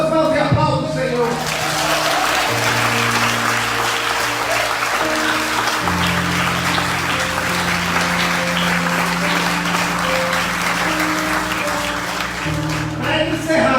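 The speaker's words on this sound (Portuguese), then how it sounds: "Levanta as suas mãos e aplauda o Senhor." A church congregation claps together in a steady, dense wash of applause, with sustained keyboard or organ chords ringing underneath throughout and a few voices rising over it.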